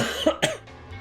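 A person gives two quick, close coughs in a row, loud and dry, followed by a faint quiet tail.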